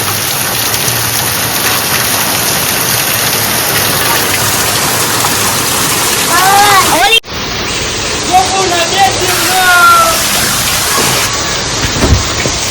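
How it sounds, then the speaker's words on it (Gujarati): Extremely heavy monsoon downpour in Gariadhar, Gujarat, with floodwater flowing knee-deep through the market streets, a steady roaring hiss close by with a brief break, and someone talking over it. "અત્યારે ભાઈ બહુ એટલે બહુ વરસાદ છે."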